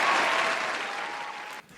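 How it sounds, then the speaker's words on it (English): A canned round-of-applause sound effect plays on a podcast, a short burst of dense clapping that fades slightly before cutting off abruptly, heard alone without talk. "Let me hit the round of applause first."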